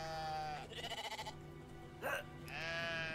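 Sheep in the video game Brothers: A Tale of Two Sons bleat in drawn-out, wavering calls at the start and end, with a quick fluttering bleat and a short burst of game noise between, quiet overall.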